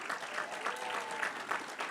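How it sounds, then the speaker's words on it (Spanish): A church congregation breaks into applause during a Spanish-language worship service, a steady wash of many hands clapping at moderate volume for about two seconds, with no voices standing out. "Un fuerte aplauso."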